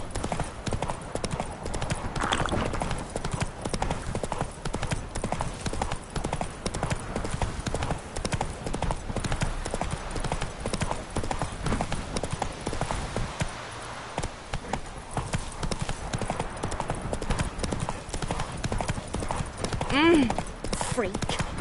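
Roach, a horse in the video game The Witcher, trots with steady rapid clip-clop hoofbeats throughout, with a brief whinny near the end and game ambience and speech underneath.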